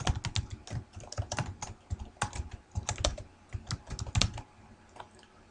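Typing on a computer keyboard in irregular quick bursts of crisp keystrokes, close and clear with no talking.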